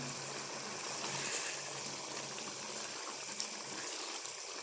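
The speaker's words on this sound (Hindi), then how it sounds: "अभी भी बबल्स बन रहे हैं। अब हम इसको थोड़ा सा हिला के देखते हैं।" Chicken gravy with yogurt simmers in a pan, a soft steady bubbling and sizzling hiss running throughout at close range, with no voices present.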